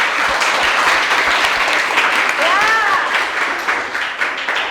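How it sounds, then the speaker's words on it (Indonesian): Students applaud in a chemistry classroom, a loud, continuous burst of many hands clapping, with a short spoken word and a brief rising voice heard over it. "tepuk tangan buat kalian"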